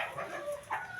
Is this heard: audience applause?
no